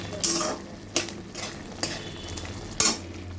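A spatula stirs turmeric powder through food in a pan, four or five distinct scraping strokes over a low, quiet sizzle.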